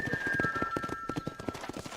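Horse hooves in the video game Red Dead Redemption clip-clop in a steady rapid rhythm, close and prominent, with a faint high whistle-like tone in the first half.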